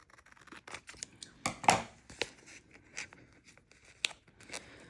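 Scissors snipping through paper while making a B6 traveler's notebook, a few short crisp cuts and snips close up in a quiet room, with faint handling rustles between them.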